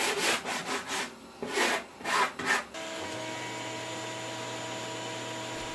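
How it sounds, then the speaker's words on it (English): A hand saw cuts out a wooden wheelchair tray shape, with about eight rhythmic rasping back-and-forth strokes close by, then giving way to a steady motor-like hum for the rest. "It didn't take long to saw out the shape and sand the edges."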